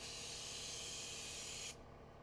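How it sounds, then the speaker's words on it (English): Paint sprayer with an adjustable fan nozzle set 8 to 10 inches wide, applying paint to red brick, hisses in a steady loud, close blast before cutting off sharply near the end, leaving faint room noise. "I change the pattern on the spray nozzle to 8 or 10 inches wide"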